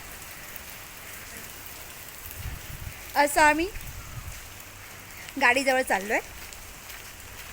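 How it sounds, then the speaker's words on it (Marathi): Steady rain falls around a family walking toward their car under an umbrella on a monsoon trip from Mumbai to Pali, a constant soft hiss while someone talks in two short bursts. "खूप छान पाऊस पडतो आहे"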